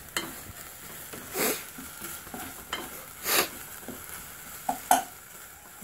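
Rice being stir-fried in a pan for home-style omurice, with a scraping spatula and light sizzling in repeated irregular strokes, several louder scrapes standing out, close and moderately quiet, with no talking.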